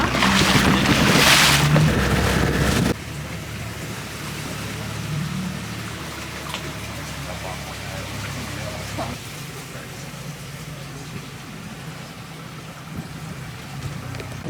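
A boat moves across water in Sian Ka'an, Mexico, with a loud rushing splash at first, then a steady engine drone and lapping water, with faint voices in the background.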